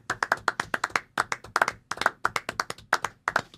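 Quick, sharp hand claps in an irregular rhythm, close and crisp, with brief pauses between bursts.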